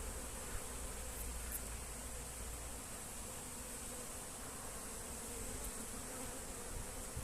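A honeybee swarm of about 3.5 kg hums steadily near a small hive box on a warm day, a dense continuous buzz that fills the whole stretch without any voices.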